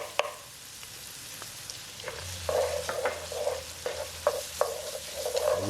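Garlic and tomato paste fry in a pan for meatball sub sauce, a soft continuous sizzle broken by repeated spoon scrapes and taps in an irregular stirring rhythm, close and fairly quiet.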